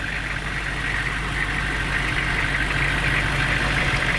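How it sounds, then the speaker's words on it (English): A 1999 GMC school bus's large diesel engine idles steadily nearby, heard from outside, a continuous low rumble with a rough knocking texture and no voices. "now I'm outside the bus as it's running"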